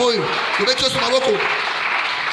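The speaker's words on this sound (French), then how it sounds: "Est-ce qu'on peut acclamer le Seigneur?" A church congregation applauding during a French-language sermon, a brief burst of clapping and cheering under a voice speaking over it.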